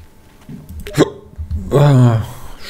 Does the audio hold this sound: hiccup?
yes